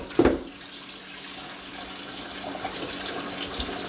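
Tap water splashes into and rinses a cast iron pan in a steady close stream, with a brief louder burst at the start and no talking.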